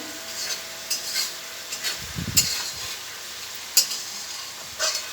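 Spice masala frying in oil for an egg and potato curry, a soft steady sizzle with occasional stirring scrapes and clinks of a spoon in the pan, fairly quiet and close.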